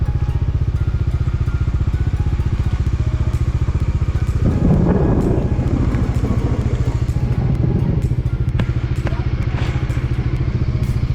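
Motorcycle ridden through rain on the way to Keesaragutta Temple near Hyderabad, its engine a steady close drone throughout, with a burst of wind or rain clatter in the middle and scattered crackles.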